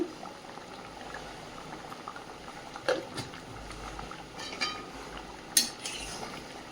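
Fish curry with ground black pepper simmers and bubbles in a pot in a homely village kitchen, a low steady bubbling bed with a few sharper clinks and pops, fairly faint, no talk.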